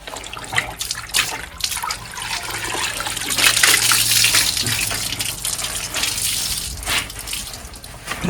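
A shirt stained with turmeric is dunked and swished in a tub of water, giving a steady run of close, fairly loud splashing and gushing with a few sharper sloshes and no speech.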